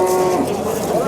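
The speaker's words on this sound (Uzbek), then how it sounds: "Mana sigirimiz akalar." A cow moos at a Piskent livestock market, a sustained, close, loud low call lasting about a second amid the market's background murmur.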